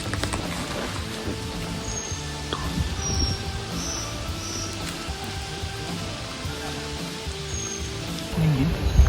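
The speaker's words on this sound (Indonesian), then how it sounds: "ini kabut dah turun sama gerimis, barengin angin juga" Light drizzle and gusting wind on the Candi Ceto trail up Mount Lawu in mist, a soft steady patter under low rumbling wind noise, with scattered faint bird chirps and a louder gust or bump near the end.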